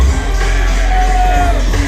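A wrestling crowd at a CCW show in Kissimmee, Florida, cheers and yells as Riddle makes his entrance, a steady loud roar of many voices throughout.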